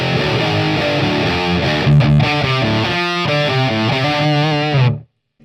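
A distorted electric guitar plays through a tube amplifier with a smooth, soft-edged overdrive, loud and up close, with sustained chords and a few quick changes before it cuts off abruptly.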